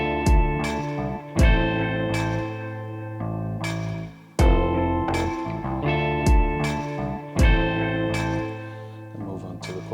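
An Ableton Move groovebox plays a looped song verse alone, with punchy bass hits and chord stabs repeating in a steady pattern, distorted and loud.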